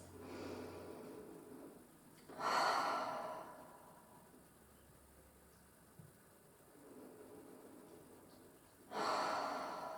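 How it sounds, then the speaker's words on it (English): Slow deep breaths during a rest position in a Pilates class, two long audible exhales roughly six seconds apart with quiet room tone between them, close and soft. "come into your rest position for the last time, taking some nice deep breaths"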